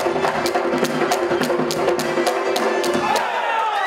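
Audience at a folk dance concert by a South Ossetian ensemble in a Beslan hall claps steadily and loudly through dance music, with sharp rhythmic beats cutting through the dense crowd noise before it cuts off abruptly.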